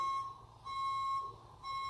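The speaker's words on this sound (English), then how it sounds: "Wait, we need a timer." Timer alarm beeping during a challenge game, a steady high electronic tone that sounds in three long pulses separated by short gaps, close and clear with no talking.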